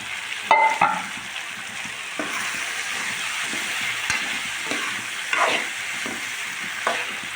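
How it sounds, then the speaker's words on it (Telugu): Boiled peas tossed into a capsicum curry in a pan, giving a steady close sizzle with occasional louder clatters and scrapes as the mixture is stirred, no talking. "ముందుగా ఉడకబెట్టిన బఠానీ వేసుకుంటున్నాం"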